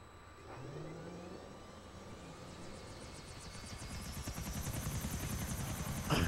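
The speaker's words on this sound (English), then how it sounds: "There may be a helicopter falling from the sky." A helicopter in GTA IV thumps steadily, its rotor growing louder and faster as it draws closer, with engine whine layered over the rhythmic chopping.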